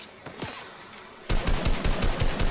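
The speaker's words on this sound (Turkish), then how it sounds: "Aha biri sıkıyor." Gunfire erupts in the Fortnite game after a quiet lead-in: loud, close bursts of rapid automatic shots with a few fainter cracks before them, rattling on steadily to the end.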